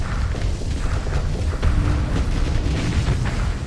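Torpedo blasts boom in the space game Starsector, a continuous heavy low rumble of overlapping explosions with scattered sharper bursts throughout.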